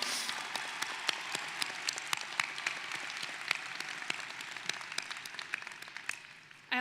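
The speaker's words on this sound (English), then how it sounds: "So give them a round of applause," Sustained applause from a large audience at a veterinary medicine commencement ceremony, a dense, steady wash of many hands clapping that fades slightly near the end.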